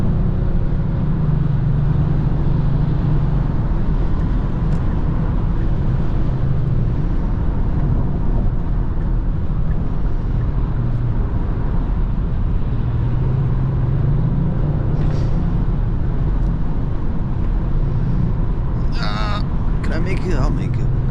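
Kia Stinger GT driven fast, a loud continuous low engine and road roar with wind noise, steady throughout, with a brief higher burst near the end.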